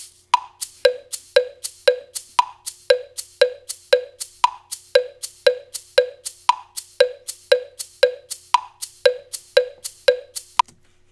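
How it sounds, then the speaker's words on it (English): A clave-sample metronome click from a Logic sampler plays eighth notes in a steady, even pulse, about two dozen crisp wooden knocks, close and dry, with no voices. "So my click sounds like this."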